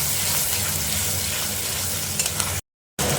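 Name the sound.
sautéing spice masala in a pan for chicken bharta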